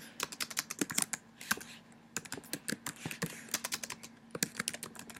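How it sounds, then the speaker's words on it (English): Rapid, uneven bursts of typing on a computer keyboard, close and crisp, with short pauses between runs of keystrokes and no voices. "just start typing"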